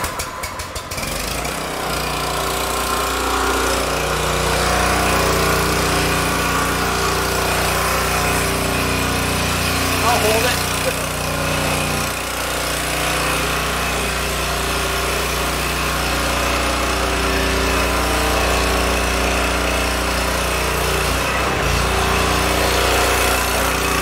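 A Forest King 2-in-1 27-ton log splitter runs on its 196cc gas engine, a loud, close, steady idling drone that continues throughout.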